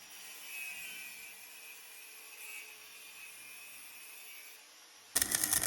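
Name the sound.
machine grinding down a welded joint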